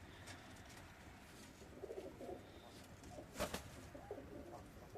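Large pigeons in a loft give soft, quiet coos in a few short bursts against a faint, hushed background.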